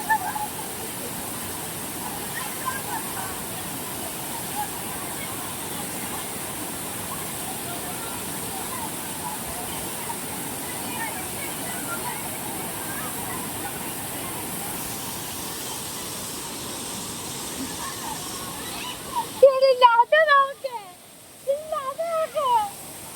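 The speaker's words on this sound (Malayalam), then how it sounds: "കുന്നിൻ്റെ മണ്ടിയിൽ നിന്ന് വരുന്ന നല്ല തണുത്ത വെള്ളം ദേഹത്ത് വീഴുമ്പോൾ ആഹാ അടിപൊളിയാണ്" Cold water pouring down from a hilltop at Palaruvi waterfall, a steady, even rushing roar that runs unbroken for most of the stretch before voices briefly come in near the end.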